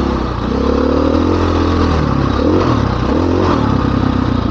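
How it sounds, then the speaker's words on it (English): 2015 KTM 500 XCW dirt bike engine running on a Colorado trail, a loud, close, steady buzzing roar with slight pitch rises as throttle shifts, no talk. "riding a 2015 KTM 500 XCW."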